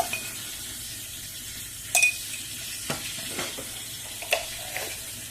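Sesame seeds and coconut roast in a hot pan for a brinjal masala curry, a faint steady sizzle broken by a few sharp clinks of a spatula against the pan.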